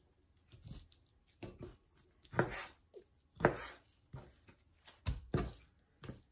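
A knife cuts through a beef roast on a board with a string of irregular dull thunks and slicing strokes, close up and fairly quiet, with short pauses between the cuts.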